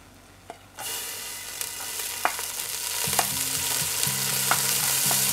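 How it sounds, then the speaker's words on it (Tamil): Green chilies fry in hot ghee with a rising sizzle after a quiet start, broken by sharp clicks and scrapes of stirring, close and without talk. "இந்த பச்சை மிளகாவை கொஞ்சம் ஃப்ரை பண்ணி விட்டுருங்க"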